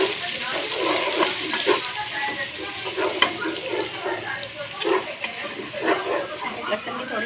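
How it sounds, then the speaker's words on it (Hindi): Cumin seeds and freshly chopped ginger and garlic fry in a pan with a soft, continuous sizzle, while a person talks over it throughout. "अदरक लहसुन चॉप्ड फ्रेशली चॉप्ड वो डालें, और थोड़ा सा इसको भूनें।"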